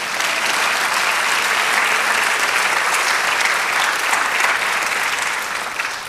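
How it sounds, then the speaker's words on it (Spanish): Strong, continuous applause from a church congregation during a sermon, dense even clapping sustained at full volume before easing slightly at the close. "Dale aplauso al Señor."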